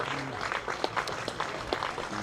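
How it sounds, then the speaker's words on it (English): Crowd at a one-day cricket match, Yorkshire Vikings against Essex, giving moderate applause, a steady spread of distant clapping heard under a commentator's voice. "And we'll let him take the applause."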